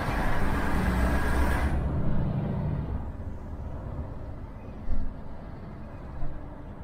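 Road vehicles move past at night during a dock approach, a dense, steady rumble of engines and traffic that suddenly drops in brightness partway through, with a couple of brief louder knocks near the end.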